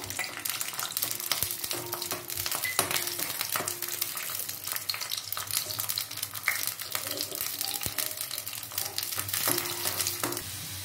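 Garlic cloves fry in a little oil for a tempering, giving a steady, close crackling sizzle with scattered sharp pops and occasional stirring clicks throughout.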